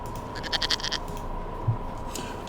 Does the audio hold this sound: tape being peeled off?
no